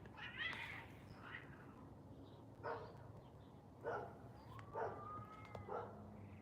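Distant feral cats cry and yowl while mating, in several short bursts over constant outdoor background hiss, fairly faint.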